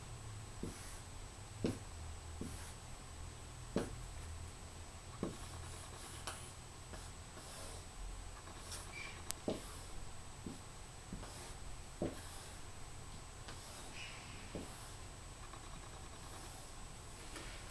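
A pen sketches a circuit diagram of three car audio batteries wired in parallel, giving soft, steady scratching strokes with occasional sharper taps of the tip against the paper, close and quiet, with no voices.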